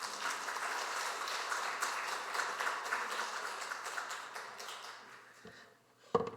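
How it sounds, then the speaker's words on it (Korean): A church congregation at a revival service claps in welcome, a steady, moderately distant patter of applause that fades toward the end before a couple of close knocks. "우리 환영의 의미로 우리 큰 박수로 함께 환영하도록 하겠습니다."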